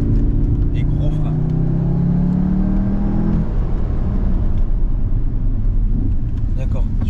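Car engine revs rising in pitch under hard acceleration for a few seconds, then drops away into a steady low rumble as the car brakes hard, heard from inside the cabin.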